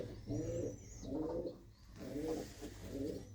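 Pigeons, including a large hen pigeon among red Chinese pigeons, coo in a repeated low rolling rhythm of about four phrases, fairly close and steady with no talking.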